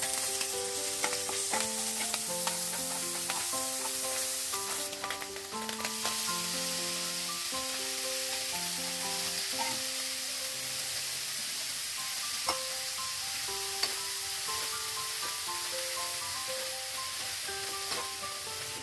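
Bean sprouts stir-fry with browned onion and garlic in a steady, continuous sizzle with stirring, running under melodic background music.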